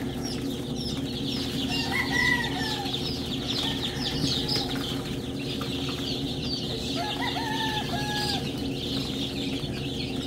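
A flock of chickens clucks steadily while pecking at freshly scattered feed, with soft overlapping calls and occasional wing flutters over a constant low background hum.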